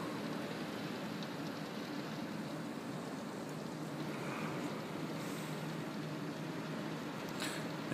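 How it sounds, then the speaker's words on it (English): Heavy rain pours down during a storm in Ocala, a dense, steady roar of downpour that stays loud and unbroken throughout, with no voices. "it's raining a little hard here in Ocala"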